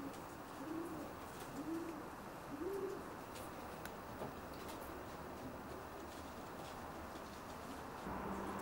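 Racing pigeons in a loft give soft, low, repeated coos in a short series, fairly faint against steady background noise.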